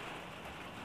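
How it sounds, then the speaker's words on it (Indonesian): Steady rain falls outdoors during potting of a Tabebuya bonsai tree, a continuous even hiss with no voices. "Apa hujan-hujan ini"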